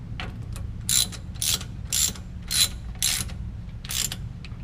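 A ratchet snugging the rear differential cover bolts on a Ford F150 in a crisscross pattern, heard as six evenly spaced, close bursts of bright clicking over a low steady background hum.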